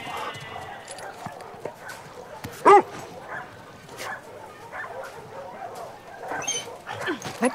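A dog in The Last of Us Part II gives a single sharp bark among quiet outdoor game ambience, with a few softer whimpering and shuffling sounds around it.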